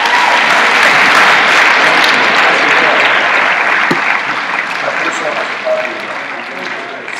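An audience at a University of Michigan talk applauds loudly, a thick, steady clapping that fades gradually toward the end, with voices faintly mixed in.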